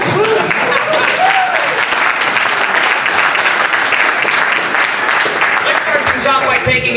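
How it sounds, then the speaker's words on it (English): A large audience at a boxing press conference for X Series 19 in Qatar claps loudly and continuously, a dense, unbroken wash of applause with voices mixed in. "That was an applause break."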